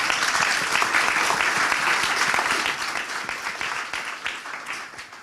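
A conference audience in West Yorkshire applauds warmly, dense clapping from many hands that stays loud for a few seconds and then thins out and fades toward the end.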